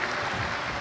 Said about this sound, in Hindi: एक बार सभी सिरपुर वासियों के लिए जोरदार ताली बजाकर स्वागत, वंदन, अभिनंदन।